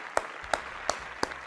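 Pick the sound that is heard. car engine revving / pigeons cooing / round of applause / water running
round of applause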